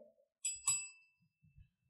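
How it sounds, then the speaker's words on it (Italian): Two quick bright bell dings, close and clear, signal the start of a speaker's turn at a classical debate tournament semifinal, followed by faint low murmurs. "lo speaker può iniziare a parlare ovviamente appena senti due campanelli"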